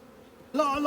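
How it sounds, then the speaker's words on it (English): Honey bees in a hive under a flat roof, a sudden close buzzing that rises out of near silence halfway through and holds loudly to the end. "There's all bees all clumping up here as well."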